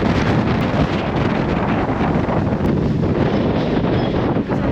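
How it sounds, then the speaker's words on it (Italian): Strong mountain wind above 1500 meters near a cable car buffets the microphone continuously, a loud, steady roaring rumble with gusty fluctuations throughout. "tra un po' non mi sentirete più perché c'è un vento incredibile"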